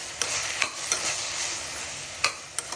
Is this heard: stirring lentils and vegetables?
yes